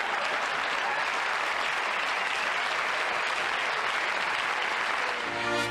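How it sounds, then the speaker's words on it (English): Dense, sustained studio audience applause on a late-night television talk show, a loud, even roar of many clapping hands that holds steady throughout the clip. "I'm humbled by that applause."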